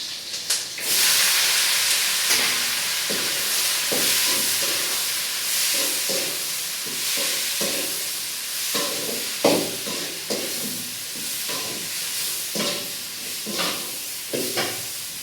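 Onion, tomato and broad beans fry in a pan for a broad bean sambar, giving a steady close sizzle and hiss broken by repeated scraping stirs.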